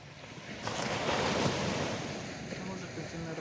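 Sea waves and surf breaking on Karon beach in Phuket, a steady rushing wash that swells and fades, with wind buffeting the microphone.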